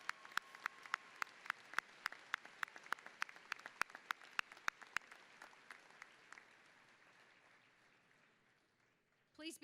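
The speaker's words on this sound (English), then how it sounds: "A round of applause for those receiving their degrees in nursing." Applause at a spring university commencement for nursing degree recipients, sparse individual claps over a soft crowd wash that thins and fades out, quiet and distant in a large hall.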